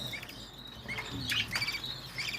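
Budgerigar and cockatiel chicks in a nest box in a home aviary give soft, high, scattered chirps and squeaks in short irregular bursts, faint and close, with light rustling between calls.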